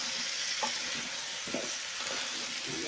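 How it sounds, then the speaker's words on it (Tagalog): Squash stirred in a pot of simmering coconut milk for ginataang kalabasa, a constant soft bubbling hiss with a few faint scrapes of the spoon. "Haluin lang."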